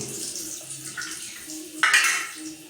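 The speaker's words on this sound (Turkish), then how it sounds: "Amaç sadece sıcak suyla yıkamak." Hot water runs and splashes steadily over bird cage parts being washed, a canary cage, with a louder gush partway through, close up and without speech.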